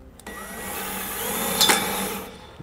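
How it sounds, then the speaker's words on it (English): A power drill drives a number 12 self-tapping screw while mounting an electric-hydraulic brake actuator on a trailer: one steady mechanical whir of about two seconds, close and fairly loud, ending abruptly, with no talking. "Just going to use a number 12 self-tapping screw."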